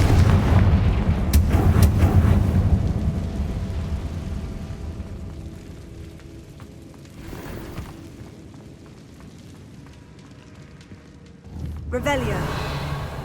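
Confringo explosion spell in Hogwarts Legacy: a heavy boom with rumbling debris early on that slowly decays, with quieter rumbles through the middle and another burst toward the end.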